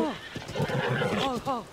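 Horse in Zelda: Tears of the Kingdom neighing loudly, with rising-falling whinnies near the start and again toward the end, clip-clop hooves and other game sounds in between, beneath continuous talking.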